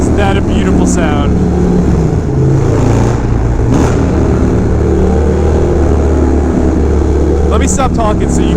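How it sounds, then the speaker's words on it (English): A Fab 28 motorcycle exhaust roars and revs loudly inside a tunnel in New York City, echoing heavily, with other traffic and a voice briefly heard. "Let me stop talking so you can all just enjoy the sounds of a Fab 28."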